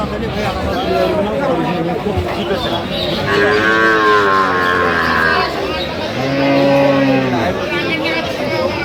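Dairy cows and calves at the Aftabganj cattle market in Dinajpur give two long, drawn-out moos in a row over a steady background of crowd chatter and market hubbub.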